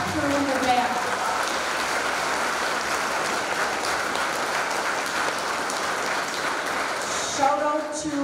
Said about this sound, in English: let's give Caitlin a round of applause for helping her tech crew in the back